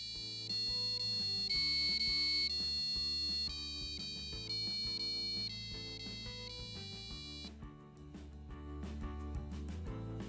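Buzzy electronic square-wave tones from an Arduino-based synthesizer play a simple melody of held notes, roughly one per second, then the tune shifts into a denser electronic pattern.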